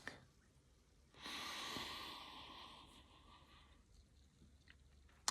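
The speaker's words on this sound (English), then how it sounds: "Let's proceed with the sniffing." A long, breathy sniff drawn in through the nose, close and fairly quiet, lasting a couple of seconds before fading out.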